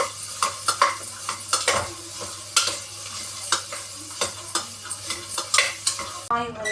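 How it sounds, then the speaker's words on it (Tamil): Onion and chili sautéing in oil in a pan for beetroot kootu, with a steady sizzle under repeated scraping and stirring strokes of a utensil against the pan, close and fairly loud throughout. "அதையும் கொஞ்சம் போட்டுட்டு கொஞ்சம் வதக்கி விடுங்க. கொஞ்சம் வதக்குங்க."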